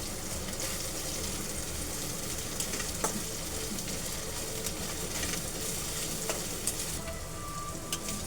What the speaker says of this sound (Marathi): आलं पण छान असं परतून घेते